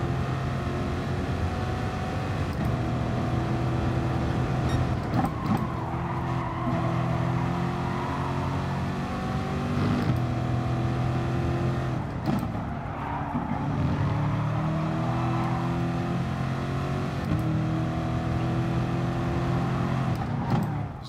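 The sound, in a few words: race car engine noise in racing video game at Brands Hatch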